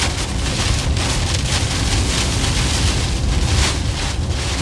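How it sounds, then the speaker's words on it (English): Strong wind roars and buffets the microphone in a steady, dense rush during a tornado in Minnesota, with no voices over it. "Whoa, it is really windy."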